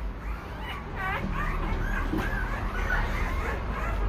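Newborn one-day-old puppies at a kennel give repeated high, wavering whimpers and squeaks, close and fairly steady over a constant background hum.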